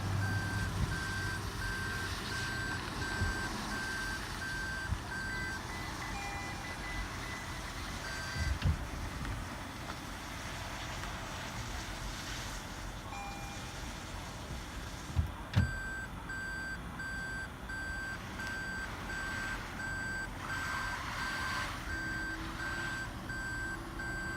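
A vehicle's reversing beeps repeat in a steady electronic pattern while intelligent park assist steers it into a parking spot, audible over a low engine hum with a couple of brief thumps.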